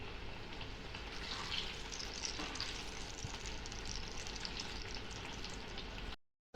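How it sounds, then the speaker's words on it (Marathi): Potato fritters (batata bhaji) deep-frying in hot oil give a steady, dense sizzle and crackle that runs unbroken for about six seconds before cutting out, with no voices over it. "आता आपण आहे ना पलटी करून घेऊ बघा आपले बटाटा भजे किती छान फुगत आहे"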